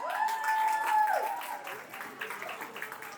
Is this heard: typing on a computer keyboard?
no